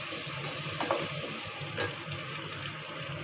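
Onions frying in a pan at home, a steady soft sizzle throughout with a couple of faint stirring scrapes, no voices.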